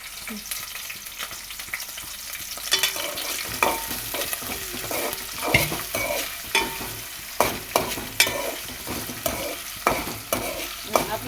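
Brinjal curry being stirred in a pan over a sizzling fry, with repeated scraping and clanking strokes of a spoon at an irregular rhythm, fairly close and clear throughout.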